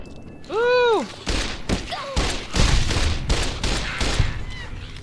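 Gunfire in the video game Fallout: New Vegas, a run of sharp, fairly close shots after a rising tonal cue, with a voice speaking between the blasts.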